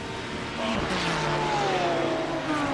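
A GT3 race car in the iRacing sim racing game pulls away under throttle, its engine tone climbing steadily and then holding with a rising whine. The sound is loud, close and continuous, with no speech over it.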